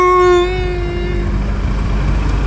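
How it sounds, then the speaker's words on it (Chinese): A faulty vehicle horn sounds one short, loud, buzzy honk at the start, then fades into steady low rumbling background noise. "破喇叭该修了，该修了，"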